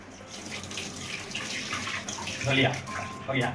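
Tap water runs steadily into a sink while hands are washed, a constant soft splash nearby with faint voices in the background.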